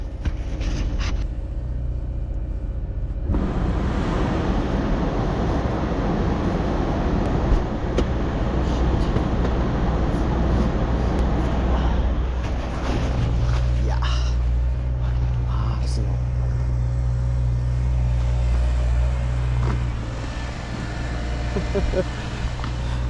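A car engine idles steadily while warming up outside in snowy weather, its low, even rumble running almost the whole time with a faint tonal whine joining later.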